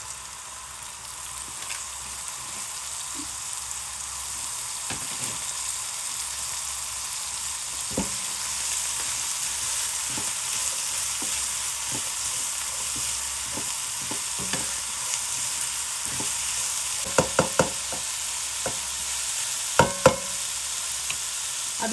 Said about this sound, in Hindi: अब इसमें डालते हैं जी बंद गोभी।